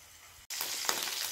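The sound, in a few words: ginger paste frying in a pan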